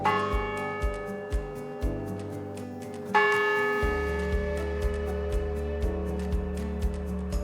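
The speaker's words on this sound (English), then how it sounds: "a bell that greets the hours of the day." A church bell at St. Teresa of Avila Catholic Church tolls the hour, loud clear strikes ringing out in a steady slow rhythm with long humming decay between them.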